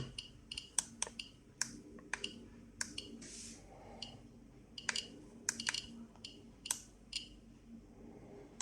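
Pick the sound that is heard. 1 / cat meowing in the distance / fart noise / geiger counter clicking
geiger counter clicking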